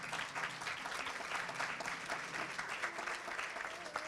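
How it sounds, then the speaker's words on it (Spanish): An audience at a conference session on breastfeeding and breast milk substitutes claps steadily, dense and fairly distant, with a faint murmur of the crowd underneath. "Ahí Laurita aplaude, fuerte el aplauso"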